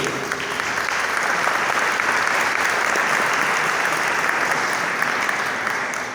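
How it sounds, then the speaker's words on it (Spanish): A hall audience at a book-fair talk at FIL Minería 2023 bursts into sustained applause, a thick, even wash of clapping that holds steady before easing off slightly. "Javier Pimentel, un aplauso para él."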